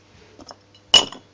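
Small metal gears and parts from a microwave turntable synchronous motor clink together in a single sharp close chink, preceded by a few faint light taps.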